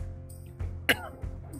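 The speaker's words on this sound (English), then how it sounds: "let's say you have a tough cough that's been bothering you for a while" A single sharp cough bursts out near the middle, preceded and followed by soft throat noises and low background hum, brief and close.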